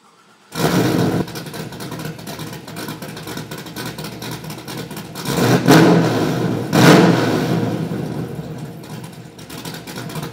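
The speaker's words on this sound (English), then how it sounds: "This is my 95 240SX that me and my dad built together this off-season." A 1995 Nissan 240SX drift car engine revving nearby, a loud steady roar rising in two strong surges before settling back to a hard idle-level drone.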